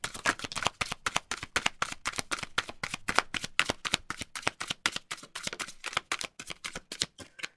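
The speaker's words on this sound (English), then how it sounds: "I'm just going to shuffle them 3 times." Tarot cards riffled and shuffled by hand in rapid, steady bursts of crisp slaps, close up and alone, with no talking.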